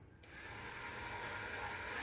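A power drill bores slowly into the plastic of a Can-Am Spyder luggage rack fitting, starting after a brief pause and holding a steady whining grind to the end.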